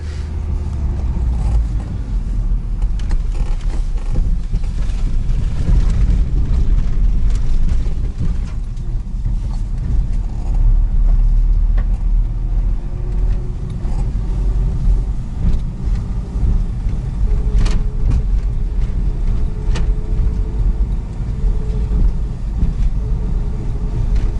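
A car drives along a winter road with a steady low rumble of engine and tyres that swells and eases slightly, continuous and fairly loud throughout, with no talk.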